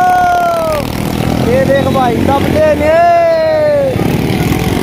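Motorcycles and vehicles rumble and drone continuously along a dak kanwar yatra procession, with rising and falling siren-like tones over the engine noise and an excited voice speaking close by.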